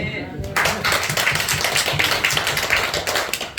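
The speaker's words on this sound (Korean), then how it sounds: "박수" Church congregation clapping during a Sunday morning worship service, a burst of many hands that starts abruptly and carries on in a lively, somewhat rhythmic patter, with a voice heard over the clapping.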